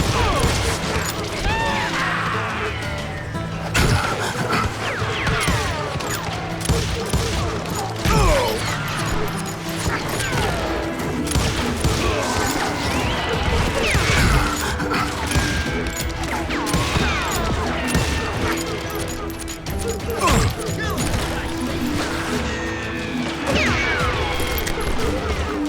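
Rapid gunfire crackles almost nonstop through a Call of Juarez Gunslinger Wild West firefight, with sharp cracks, ricochet whines and impacts layered over shouting voices, loud and close throughout.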